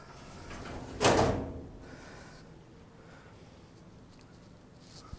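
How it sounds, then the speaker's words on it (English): A drawer slides open with a single loud scraping rush in an abandoned theatre's office, followed by a quiet room and a faint tap near the end. "This is Matt's drawer."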